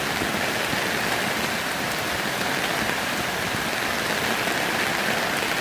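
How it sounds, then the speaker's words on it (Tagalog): Steady, dense rain pours down in a continuous loud hiss with no pauses. "Bisan pa og ulan mga idol."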